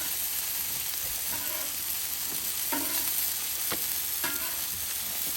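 Chicken gyro pieces sizzle steadily on a Blackstone griddle while a spatula turns them over, giving a few sharp scrapes and taps over a constant frying hiss, close by with no talking.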